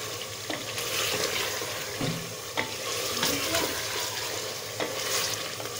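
Meat for Peshawari namkeen gosht is bhuna over medium-high heat: a steady sizzle and frying hiss runs throughout, with intermittent scraping and stirring knocks from the pan.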